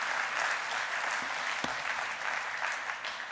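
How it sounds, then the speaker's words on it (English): A congregation applauds a young girl during a blessing church service, a steady, moderately distant round of clapping holding evenly throughout with little talk. "Give her a good round of applause."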